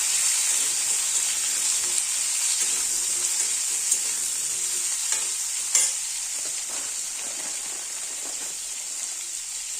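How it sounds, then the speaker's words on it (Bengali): Steady, loud sizzling of potatoes and pointed gourd frying in hot oil with cumin, with occasional stirring clinks and pops throughout, no voices. "তাহলে তাড়াতাড়ি পটলটা আলুটা ভাজা ভাজা হয়ে যাবে।"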